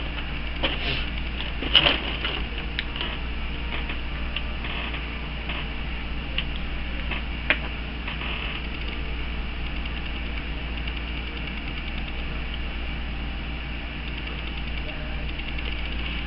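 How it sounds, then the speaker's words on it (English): A makeup pencil turned in a sharpener, giving a steady run of small ratcheting, grinding clicks close up, with a couple of sharper snaps early on over a constant low hum. "Needs to be sharpened"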